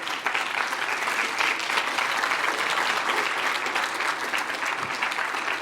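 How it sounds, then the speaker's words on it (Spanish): Church congregation applauding during a sermon, a steady, dense wash of clapping that stays loud and even for the whole stretch with no voices over it. "Vamos a darle un aplauso al Señor Jesucristo."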